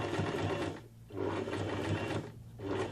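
A sewing machine stitches forward in two steady whirring runs with a brief pause between them, close and fairly loud, with no talking.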